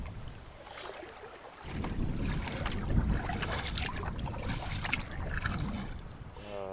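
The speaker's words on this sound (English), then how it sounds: "We've got pretty stiff headwind on the lakes today" Stiff headwind gusting over a lake on a fall paddling trip, a close rumbling buffet against the microphone that swells in after a quiet start and surges unevenly, with faint splashes.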